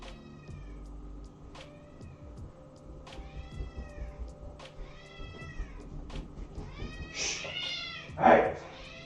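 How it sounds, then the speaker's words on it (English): A house cat meows repeatedly indoors, a series of drawn-out, rising and falling cries spaced a second or two apart, ending in a louder, harsher yowl over a faint background hum. "Not sure if you could hear the cat meowing."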